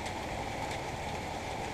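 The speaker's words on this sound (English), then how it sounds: "what video from around here would be complete without a picture of the rain?" Rain falls steadily outdoors at a boat painting project, producing a continuous, even hiss of drops with no voices.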